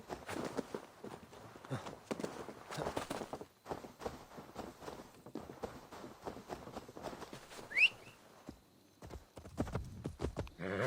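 Horse hooves clip-clopping steadily through the game Assassin's Creed Valhalla, set in Ireland, a close rhythmic run of hoofbeats with one brief whistle-like squeal partway through.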